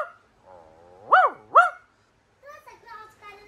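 A person imitates a dog's bark with two loud, sharp voiced yelps in quick succession, preceded by a low hum and followed by softer voiced sounds.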